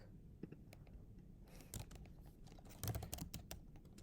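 Typing on a computer keyboard, a steady run of close, crisp key clicks with uneven rhythm and a few louder clustered strikes, heard alone without talk.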